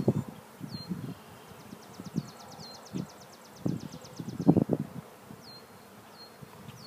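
Honeybees buzz around an open hive during a spring inspection, a soft, close, fluttering drone with occasional louder passes, mixed with light handling and rustling noises.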